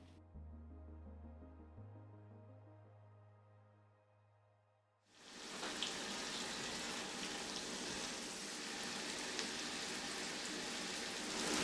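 Onions sautéing in butter in a pan, heard as a dense, even crackling sizzle like light rain that starts abruptly partway through after a stretch of soft tonal music.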